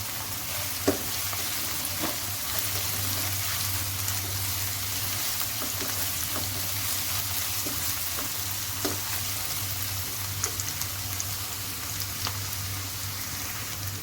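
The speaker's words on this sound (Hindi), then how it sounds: "अब इसमें मैं ये जिंजर गार्लिक ऐड कर दूँगी और इसको मैं भून लूँगी 2 से 3 मिनट के लिए" Ginger and garlic fry with browned onions in a pot for a boneless chicken Mughlai handi, giving a steady close sizzle with faint stirring clicks and a low hum beneath, with no talking.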